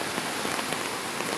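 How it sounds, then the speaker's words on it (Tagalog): Strong floodwater rushing near a bridge, a dense, steady wash of noise like heavy rain, loud and close, continuous and unbroken with no voices. "Kusog kayong baha dire."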